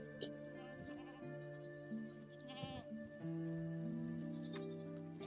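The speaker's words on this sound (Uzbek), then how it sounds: "Mana qo'ylar shunaqa o'tayapti." Several sheep bleat close by, their wavering calls overlapping almost continuously, with a low rumble of other animal noise underneath, goats nearby.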